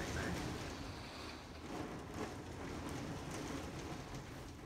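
Steady, dense storm rain hiss with a low rumble underneath, constant and fairly faint throughout.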